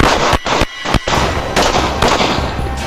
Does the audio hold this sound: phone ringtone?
no